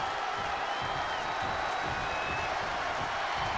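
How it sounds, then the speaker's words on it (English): A wrestling arena crowd in the video game WWE 2K22 roars and cheers in a steady, dense wash of noise that stays constant throughout, with no distinct voices standing out. "The sound of this crowd is deafening, and he's asking for more."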